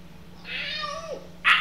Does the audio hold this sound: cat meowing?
yes